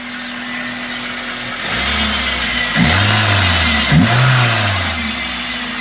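A 2005–2006 Toyota Corolla XRS engine idles, then is revved several times in short, rising bursts, loud and close in a garage setting, with no talk.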